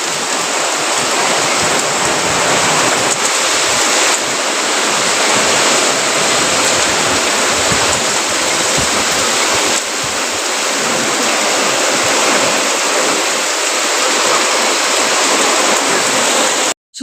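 Heavy rain falls on a village evening, a loud, constant broadband roar close by that holds steady throughout without pause, and no one speaks.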